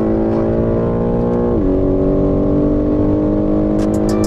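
A sports car's engine roars loud and close as it accelerates hard, its steady note dipping briefly at a gear change before climbing again.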